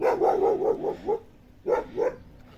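A dog barks nearby in a rapid string of sharp woofs, pauses briefly, then lets out two more barks.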